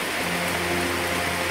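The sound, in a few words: heavy rain on a mountain trail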